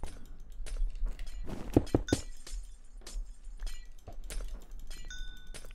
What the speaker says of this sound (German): Dieses Glasgeräusch regt mich so mega auf